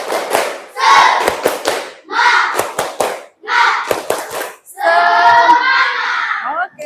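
A school class performs a rhythmic 'tepuk semangat' clapping cheer led by the class captain, sharp group claps in patterned bursts with chanted voices between them, ending in a longer sung or shouted phrase.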